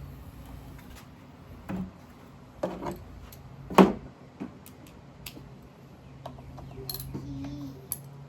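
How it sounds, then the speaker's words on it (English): A socket wrench removes a small bolt during maintenance on an Echo SRM-2620 string trimmer. Faint, irregular ratcheting clicks and metal taps sound up close, with one sharper knock partway through. "take the socket and get this little bolt off right here"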